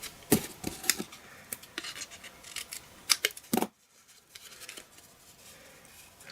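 Scissors snip through paper while cutting a rim for a paper flower pot, a series of close, crisp cuts and rustles, then a brief silence and softer paper handling afterward.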